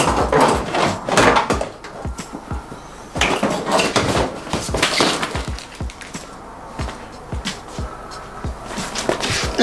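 The rear bumper of a 1999 Mitsubishi Eclipse GSX is worked loose by hand, giving loud, close, irregular plastic creaks, knocks and rattles that keep coming throughout.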